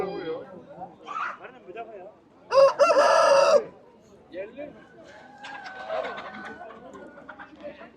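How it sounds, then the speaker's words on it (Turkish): Fighting cocks of the göğüş breed at an animal market give a loud, close crow lasting about a second, with background market chatter and other bird calls before and after it. "göğüş horozları da mevcut"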